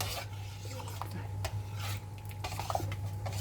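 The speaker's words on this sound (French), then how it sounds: "Si vous la remuez pas, ça va coller au fond de votre casserole" Scraping and rubbing of a utensil against a saucepan as a flour mixture is stirred, irregular strokes over a constant low hum.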